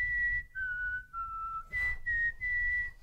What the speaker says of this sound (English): He's a good whistler.